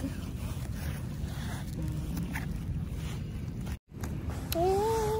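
Steady wind rushing across the microphone with a rough, continuous roar, briefly dropping out before a high whistling tone near the end.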